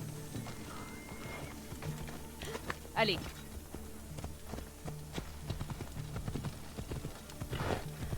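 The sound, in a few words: horse galloping and neighing in a video game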